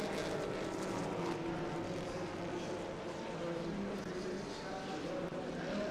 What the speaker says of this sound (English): So the Chevys all blow past the Porsches as this one goes green